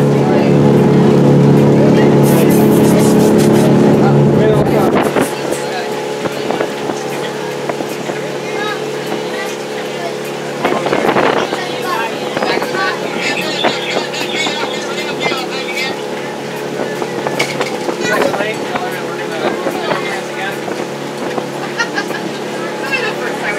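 A boat carries riders down a river toward the landing dock at Disney Springs, Walt Disney World, its motor humming loudly at first, then easing into a quieter steady rumble with water and ambient noise around it.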